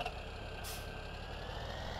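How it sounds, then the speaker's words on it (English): A tractor reverses in Farming Simulator 17, its steady engine drone running evenly beneath a faint high tone, with a brief hiss of air partway through. "And pull this tractor back out of the way."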